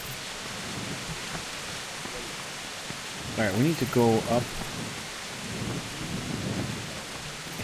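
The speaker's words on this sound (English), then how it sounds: "It's raining out." Rain and thunder outside at night in Kingdom Come Deliverance: a steady rain hiss fills the scene while a low rumble rolls beneath, with a voice briefly speaking over it midway.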